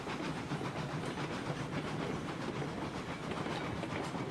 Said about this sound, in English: This is a prairie passenger locomotive.